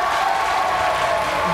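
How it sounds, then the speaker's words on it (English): A Robot Wars studio audience gives a loud, dense round of applause mixed with cheering and whoops, sustained throughout. "Another round of applause, ladies and gentlemen."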